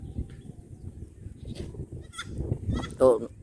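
Goat bleating once, short and fairly close, near the end of a stretch of chatter and background noise at a beachside picnic.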